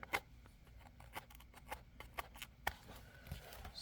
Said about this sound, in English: get my scissors out here, see if I can fix that little guy.